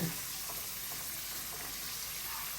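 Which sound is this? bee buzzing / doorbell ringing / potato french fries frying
potato french fries frying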